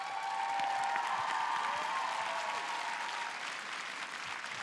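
An audience at the final of Ukraine's 2018 Eurovision national selection applauds in a broad, continuous roar of clapping that sounds fairly distant in a large hall, with a faint tonal hum under it, slowly thinning toward the end.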